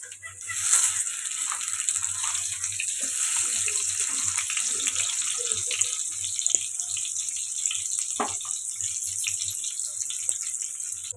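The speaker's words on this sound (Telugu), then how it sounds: "ఒకవైపు ఫ్రై అయింది రెండో వైపు ఆన్ చేసుకున్నాం" Paneer pieces frying in oil in a pan make a continuous bright sizzle, fairly loud and steady throughout, with a few faint clinks and no talking.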